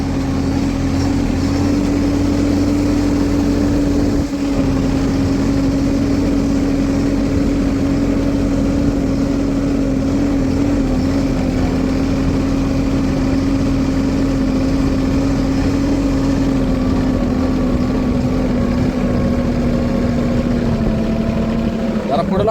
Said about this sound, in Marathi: जरा पुढे लावून की ट्रॅक्टर इथपर्यंत घ्या ना